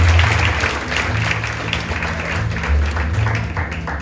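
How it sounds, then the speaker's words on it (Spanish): A church congregation gives a strong round of applause to the Lord, dense steady clapping held for the whole stretch, with a low rumbling undertone and faint voices mixed in. "Bríndale un fuerte aplauso al Señor."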